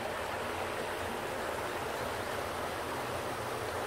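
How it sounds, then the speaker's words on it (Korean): Water flows at the spring of Cheoneunsa temple in Gurye, a steady, even rush of running water filling the clip with no pauses or voices. "물소리 들리시죠?"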